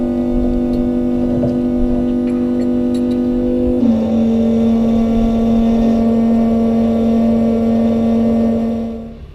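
A tractor engine runs steadily close by, droning with a strong low hum and a clear tonal pitch that shifts once partway through as it drives up a driveway, then fades at the end.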